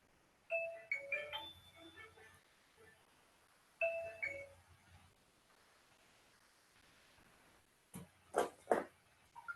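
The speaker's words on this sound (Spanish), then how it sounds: "Disculpen que no apagué el teléfono." A mobile phone ringtone goes off during a maths class, a short melodic tune that plays twice and then stops, followed by rustling as the phone is handled, fairly faint in a quiet room.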